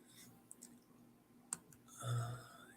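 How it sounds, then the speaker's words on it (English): Sharp isolated clicks scattered over a few seconds of quiet room tone, a couple of distinct taps followed by a soft breathy rise near the end, like a sigh. "So much clicking to do. Clickety clack."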